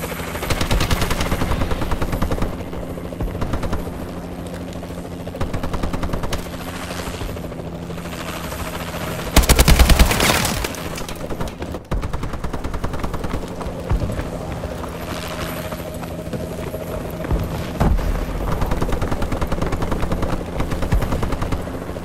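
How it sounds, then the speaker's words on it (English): Aircraft drone and bursts of gunfire from a Warbird gunship in the video game Call of Duty: Advanced Warfare, a steady loud rotor-like hum with a sharp explosive burst midway and scattered shots throughout. "Warbird in the air. Warbird assistance requested."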